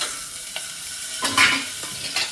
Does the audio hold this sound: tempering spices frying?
yes